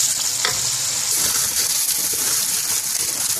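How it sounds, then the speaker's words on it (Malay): Loud, continuous hiss and crackle of ingredients frying in hot oil in a wok (kuali) while cooking lontong goreng, close up and steady, with faint stirring scrapes and no talking. "So kita tumiskan dulu"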